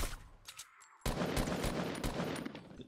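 Gunfire in Fortnite: a few sharp shots, then a denser burst of repeated shots from about one second onward, loud and close with no talk over it.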